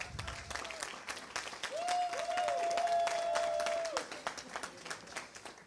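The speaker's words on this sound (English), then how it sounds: "Can we please give him a round of applause?" An audience at a Mandela Washington Fellowship panel discussion in Iowa City gives a round of applause, moderately loud, dense clapping that swells and then thins, with a voice speaking briefly over it.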